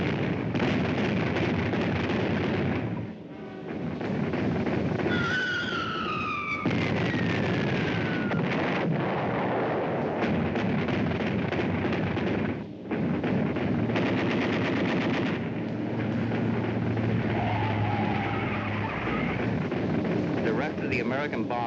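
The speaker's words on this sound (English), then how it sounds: "Underneath them, the bombs of the first group are about to explode." Bombs burst during a World War II bombing raid by American bombers, heard as dense, loud continuous blasts and rattling gunfire with a rising whine, near and relentless throughout.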